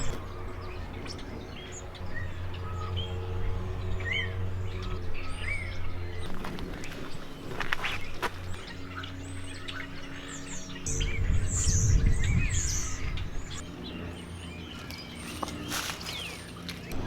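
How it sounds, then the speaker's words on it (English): Birds chirp and tweet outdoors at Neverland on a sunny day, scattered calls near and far over a steady low hum, with occasional footsteps and rustling. "I can hear the birds chirp and the sun is out"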